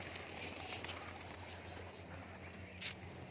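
Tumbler pigeons cooing softly in a loft in Murshidabad, a faint, low, steady murmur of coos under a background hiss, with a brief flutter near the end.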